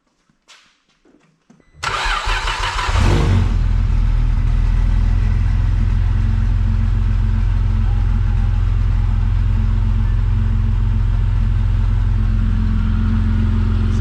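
A Vauxhall VXR car engine cranks briefly after a few faint clicks, then catches and settles into a loud, steady, deep idle that runs on for over ten seconds, heard close up.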